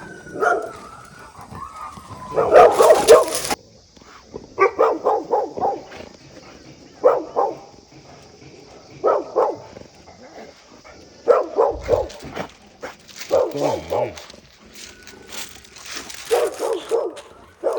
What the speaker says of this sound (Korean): 니네 왜 이렇게 우리 보고 짖어